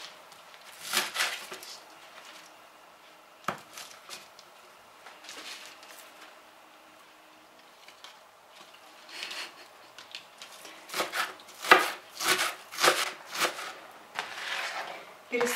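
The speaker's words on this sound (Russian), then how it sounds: "И весь этот пучок лука мелко нарезаем." Quiet knife taps on a cutting board while finely chopping a bunch of green onions, sparse at first, then a quicker run of sharp chopping strokes near the end.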